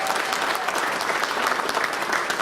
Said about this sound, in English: If we can have another round of applause for Congressman Paul Tonko.